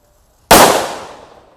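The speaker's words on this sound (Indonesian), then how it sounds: "Happy Flower B kita nyalakan di dalam air" A Happy Flower firecracker set off in water bursts with one sudden loud bang, then a long splashy hiss that fades over about a second.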